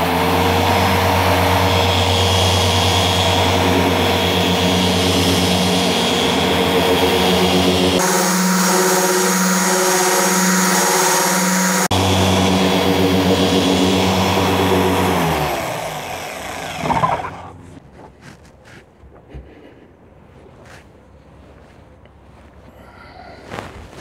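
Polishing machine spreads product over scratches: a loud, steady motor whine that shifts pitch as it speeds up, runs for about fifteen seconds and then winds down into quiet handling noises.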